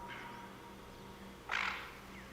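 A harlequin duck calls in the hunting game theHunter: Call of the Wild, a faint short call followed by a louder, brief squawk over quiet outdoor ambience, with no talk.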